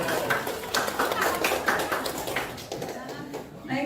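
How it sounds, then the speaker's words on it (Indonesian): Audience clapping at a school teachers' dissemination presentation, a busy patter of many hands under children's chatter that fades near the end. "Oke, tepuk tangannya mana?"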